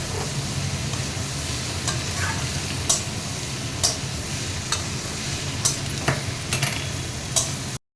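Boiled green jackfruit curry sautéed in a pan, a steady hiss of frying with a run of light spoon scrapes and taps every second or so, close and without talk.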